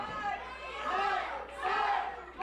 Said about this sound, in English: Now hear the crowd.